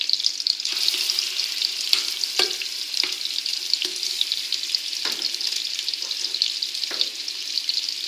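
Meatballs sizzle and fry in melted butter in a pan, a steady bright crackle running throughout with occasional sharper pops, close and alone with no talking.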